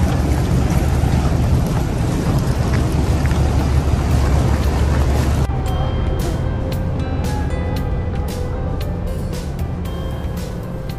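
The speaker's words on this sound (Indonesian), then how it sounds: "kapal feri yang akan kami tumpangi nanti, yaitu KM Dharma Kencana 7" Low steady engine rumble and wind-buffeted hum around the ferry KM Dharma Kencana 7, built in 1993, continuous throughout with the wind noise easing halfway and faint clicks and tones above the drone.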